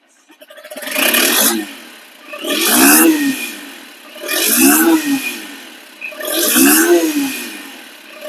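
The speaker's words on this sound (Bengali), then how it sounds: "এখন বাইকটি সাউন্ড কোয়ালিটি শুনুন" A second-hand Honda X Blade ABS motorcycle in showroom condition revs loudly four times in a steady rhythm, each throttle blip rising and falling, heard up close with no talking.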